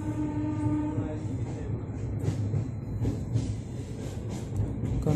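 Steady rumble and rattle of a long-distance passenger train from Pune to Kolkata heard from inside a quiet, mostly empty coach, continuous and fairly loud with no talking.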